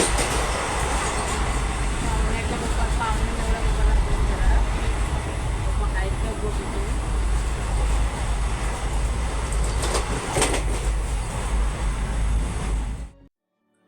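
A train at Adavali railway station in Konkan produces a loud, continuous rolling rumble with wheel clatter that rises and falls before cutting off abruptly. Someone talks over it close by.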